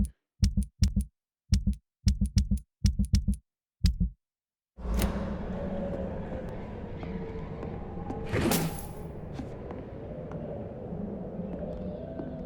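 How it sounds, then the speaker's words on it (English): Menu navigation sounds in the video game Vampyr, soft thudding double pulses like a heartbeat repeated about eight times, followed by a loud whoosh and a sustained rumbling ambience. "moving through the menu sounds like a heartbeat"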